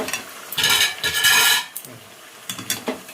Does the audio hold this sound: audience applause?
no